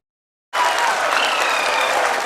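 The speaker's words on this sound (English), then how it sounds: "This control room in India burst into applause as the Chandrayaan-3 unmanned lunar module landed on the moon Wednesday morning." India's Chandrayaan-3 mission control room bursting into applause at the unmanned lunar module's moon landing, a sudden dense wave of many hands clapping that starts abruptly after a moment of silence and holds steady.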